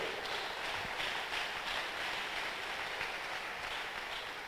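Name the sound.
congregation applause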